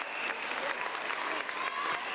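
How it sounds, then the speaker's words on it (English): A crowd at a middle school state championship game cheers and applauds for coach Xandra Morris, producing a dense, steady roar of clapping and shouts throughout, with talk mixed in. "You hear the crowd going crazy for Xandra Morris"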